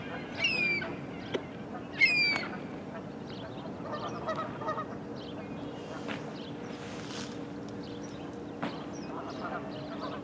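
Geese fighting near water let out two sharp, close honking calls early on. Softer splashing and scuffling follows over steady outdoor background noise.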